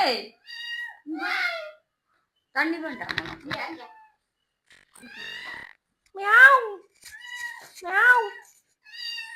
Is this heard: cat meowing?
yes